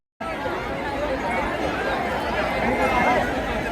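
Dense crowd murmur fills the riverside ghat at Har Ki Pauri in Haridwar, a steady, close hubbub of many overlapping voices with no single speaker standing out, continuous throughout.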